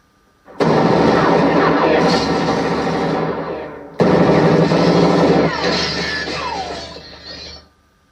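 A long, loud burst of gunfire rips through a church, a dense, continuous roar of shots and shattering debris that pauses briefly and then resumes before cutting off, in a 1989 movie scene.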